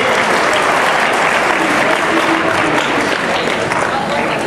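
Loud, sustained audience applause welcoming the chief guest at a school foundation day celebration at a Jawahar Navodaya Vidyalaya, a dense steady wash of clapping with crowd noise throughout.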